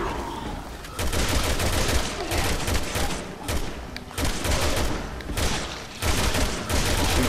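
Rapid gunfire from shooting a creature in Resident Evil 6, loud dense bursts of automatic fire that pause briefly and resume, close up with no talk over it.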